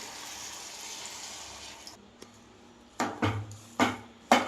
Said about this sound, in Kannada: ಮತ್ತು ಸ್ವಲ್ಪ ನೀರು ಹಾಕೊಳ್ತಾ ಇದ್ದೀನಿ